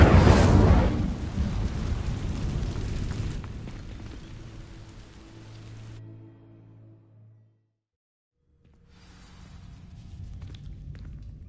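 Incendio fire spell igniting dry vines in Hogwarts Legacy: a loud burst of flame that rumbles and crackles for several seconds, trailing off into a low hum, then a short quiet gap before softer ambient noise returns.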